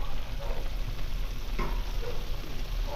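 Steady crackling sizzle of frog adobo frying in a pan, with occasional stirring scrapes, close and continuous.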